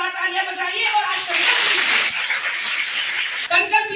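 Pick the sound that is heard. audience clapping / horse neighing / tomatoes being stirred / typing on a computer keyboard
audience clapping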